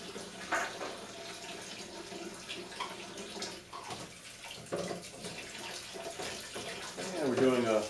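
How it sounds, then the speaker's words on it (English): Running distilled water splashes and trickles steadily, close by, rinsing an electroformed part, while a person talks over it. "we're doing a little water rinse on the part after the actane"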